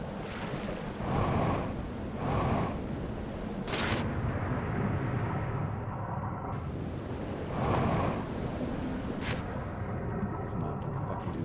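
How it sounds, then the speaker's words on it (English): Rushing, fast-moving water in the Outer Wilds video game, a steady loud broadband roar with surging swells like surf and wind, continuous throughout with no speech over it. "I think the water's moving too fast"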